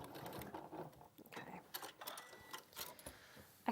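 Domestic sewing machine running in short bursts as fabric for a blouse is sewn up to the edge, a light mechanical whir with faint ticking, stopping and starting at close range.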